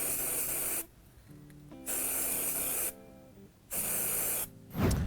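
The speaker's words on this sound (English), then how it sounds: "we've applied spray mount to the entire tree" Spray mount adhesive from an aerosol can hisses onto a model fir tree kit in three loud, steady bursts separated by short pauses, with faint clicks between them.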